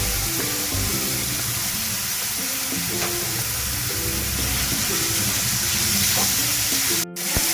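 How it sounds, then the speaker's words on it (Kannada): Chopped onion, carrot and capsicum fry in a pan for a pasta dish, a steady loud sizzle with stirring scrapes and clinks running throughout, cut off abruptly near the end, with no voices. "ಈರುಳ್ಳಿ ಹಾಕ್ಕೊತಾ ಇದ್ದೀನಿ. ಫ್ರೈ ಮಾಡ್ಕೊಳ್ಳೋಣ. ನೋಡಿ, ಇದು ಕ್ಯಾರೆಟ್ ಮತ್ತು ಕ್ಯಾಪ್ಸಿಕಮ್ ಕೂಡ ಹಾಕ್ಕೊತಾ ಇದ್ದೀನಿ."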